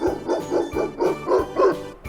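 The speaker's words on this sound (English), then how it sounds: "I'm gonna choose the little dog." A small dog barks in a steady series of about six sharp, evenly spaced yaps, close and clear with no talking.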